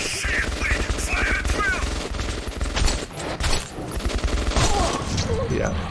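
Dense gunfire in Metro 2033 Redux, loud overlapping bursts and single cracks, with voices under the shooting throughout.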